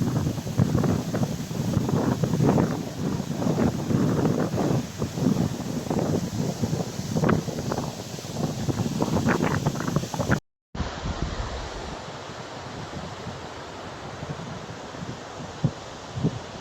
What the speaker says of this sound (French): C'est impressionnant le vent